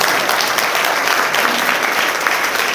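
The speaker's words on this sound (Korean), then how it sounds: "보통 이 정도 되면 박수를 한번 쳐줄 것도 한데" Audience in a hall clapping at an apartment reconstruction briefing in Banpo, a steady, dense round of applause filling the whole stretch at even loudness.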